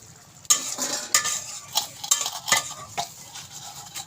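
Bitter gourd and potato being fried and stirred in spice paste in a pan, with a run of sharp spatula scrapes and clinks over a soft sizzle, close and fairly loud, no voices.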